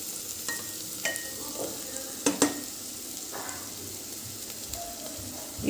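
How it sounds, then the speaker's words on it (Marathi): Tomatoes and capsicum sauté for pav bhaji, a soft continuous sizzle with a few distinct spatula stirs and clinks against the pan, fairly quiet and with no talking. "टोमॅटो आणि हे शिमला मिरची वेगळं परतून घेतात"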